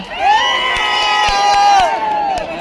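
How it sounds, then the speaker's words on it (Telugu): A lively crowd at the inauguration of the Kasam Fashions clothing store in Tadipatri cheers and whoops loudly, a sustained burst of shouting with a few claps, close and dense for the whole moment. "ఒకసారి గట్టిగా చప్పట్లు రావాలందరూ"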